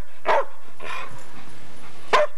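A dog barking nearby in a quiet setting: two sharp barks about two seconds apart, with a softer bark-like sound between them.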